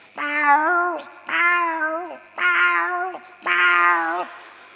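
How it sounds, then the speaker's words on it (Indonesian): Four drawn-out cat meows in a row, each loud and close with brief pauses between them, nothing else audible. "Pernah nggak denger suara kucing kayak gini?"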